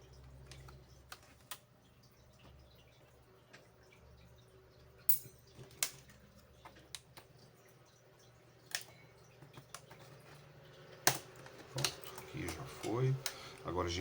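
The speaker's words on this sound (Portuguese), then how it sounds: "Agora a gente vem removendo as travas aqui com calma e levantando o resto do teclado." A card pries loose the keyboard latches on a Dell Inspiron 15 P63F002 laptop, giving scattered faint plastic clicks and snaps that grow busier toward the end, under a quiet voice speaking.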